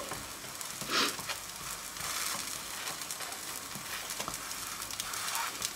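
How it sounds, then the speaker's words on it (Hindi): A paratha sizzles and fries steadily on a hot pan over moderate flame, a continuous close crackle with small bursts and no talking. "तब तक आप इसको फ्राई कर लें, पराठे को सेक लें"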